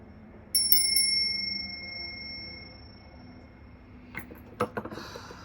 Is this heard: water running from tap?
no